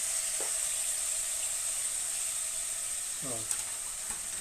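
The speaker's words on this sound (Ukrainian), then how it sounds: "М'ясо в мене смажиться." Meat for Ukrainian plov sizzles steadily in hot oil in an uncovered pan, a constant crackling hiss, with a brief voice-like sound and light clinks near the end.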